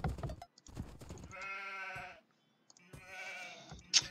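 Sheep in the video game Age of Empires II bleat twice, each cry long and clear against near silence, with short clicks and a brief burst of other game sound before them.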